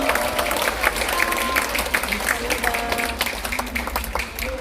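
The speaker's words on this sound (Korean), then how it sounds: "박수 부탁드립니다." A crowd at a book launch event claps in sustained applause, dense and steady, with a voice speaking over it at times.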